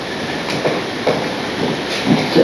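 A model railway train set, with a class 47 locomotive on the layout, running with a steady close mechanical rattle and whir and a few light clicks and knocks, no voices.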